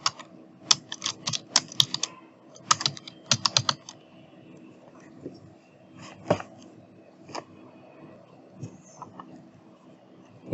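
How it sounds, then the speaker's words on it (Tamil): Someone types on a computer keyboard in quick bursts of close, crisp key clicks separated by short pauses, with no talking. "நம்ம டைப் பண்ணி ஃபுல்லாக அதை நான் டைப் பண்ணி வச்சுக்கிறேன்."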